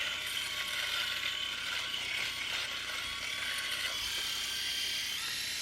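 A Philips Norelco electric shaver, a 5650 or 6100 model, runs steadily at close range, giving a continuous bright buzzing whir that holds at a constant level with no talk over it.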